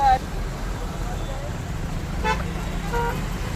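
Car horns toot briefly amid steady road traffic during a large car rally of about 2,500 vehicles held in honour of D. B. Patil near the new airport, with a low engine rumble throughout and two short honks around the middle.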